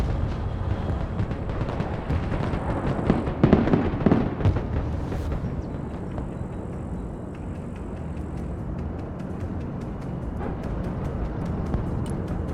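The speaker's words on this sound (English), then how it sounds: "The gunships are here to support you. Move them over enemy positions and enjoy the show." Gunship fire and explosions in the military strategy video game Broken Arrow: dense, continuous bursts of crackling and booming impacts, loudest in a cluster of blasts near the middle, with a steady rumble of battle underneath.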